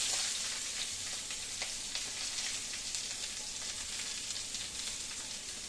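Carrots and green beans tipped into a hot pan for a Kerala-style thoran, giving a steady, close, continuous sizzle of frying vegetables with no voices.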